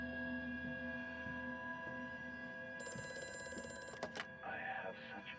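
A telephone rings in the horror video game Amnesia: A Machine for Pigs, a sustained electric bell tone cutting in over a low droning ambience and ending abruptly.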